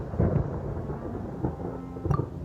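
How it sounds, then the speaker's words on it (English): Thunder rumbles in the video game Genshin Impact. It is a low, rolling growl that swells and fades in a few heavy pulses, with no voices over it. "Paimon hears thunder!"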